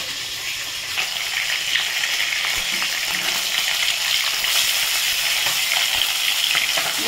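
Fish frying in a pan makes a loud, dense, continuous hiss of hot oil, close by and steady throughout with faint crackles on top.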